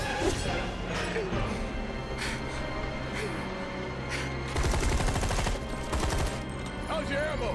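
Gunfire during combat in Final Fantasy 7 Remake, sharp repeated shots building into a rapid automatic burst near the middle, layered with battle clatter and voices.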